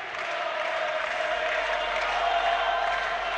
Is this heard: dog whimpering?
no